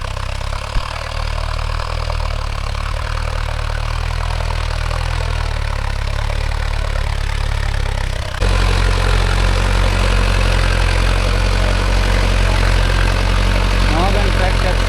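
Tractor engine idling steadily with a deep, constant rumble and vibration, loud and close, its tone shifting abruptly partway through as the engine note drops lower and heavier.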